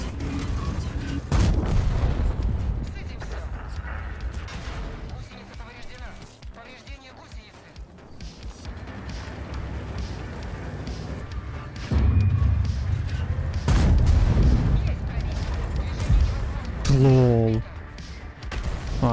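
Artillery fire booms in the tank game World of Tanks, with several loud blasts and crashes spread through the stretch alongside other in-game noise, under a player's excited talk.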